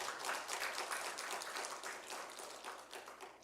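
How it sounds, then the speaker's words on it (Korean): A church congregation gives a painter a round of applause during a Sunday sermon: steady, faint, continuous clapping from a crowd with no voices over it. "박수 한번 주십시오"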